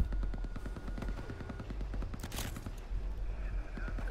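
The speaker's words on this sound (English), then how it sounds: "I heard a shot," Gunfire in the World War II shooter Hell Let Loose on the Hill 400 map: rapid rhythmic bursts of distant shots over a low engine rumble, with a sharper crack midway.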